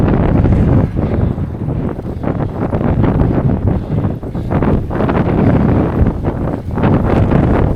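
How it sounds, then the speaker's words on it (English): Strong wind buffets the microphone in a steady, loud roar with gusting surges, recorded in an open, exposed spot along an uphill cycling route in Korea. "It's really windy."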